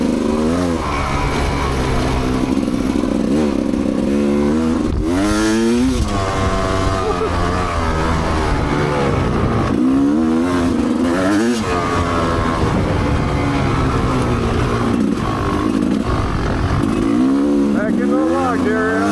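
An off-road motorcycle rides fast along the Crapo Creek ORV trail, its engine loud and continuous with rising and falling revs as the rider shifts and accelerates, wind noise layered on top.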